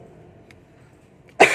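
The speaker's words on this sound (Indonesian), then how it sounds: "Batuk guys." A single short cough bursts out loudly at the end after near silence.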